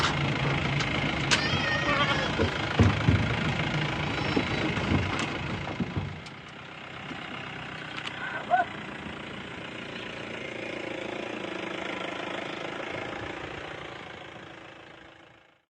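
A vehicle engine runs at a low, steady idle, fairly faint, under a few sharp knocks. It drops quieter midway and fades away at the end.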